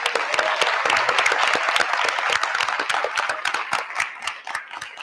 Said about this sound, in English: Can we just have another round of applause for our retirees?